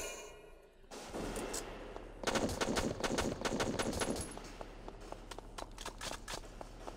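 Rapid bursts of automatic gunfire from the video game Valkyria Chronicles as a unit shoots at a gate, starting after a quiet second and then rattling on loud and sustained before thinning into scattered shots.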